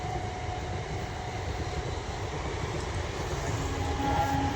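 A train passes at night, a steady low rumbling roar of rolling wagons with a faint sustained tonal whine, heard at moderate distance and slowly swelling toward the end, with no talk.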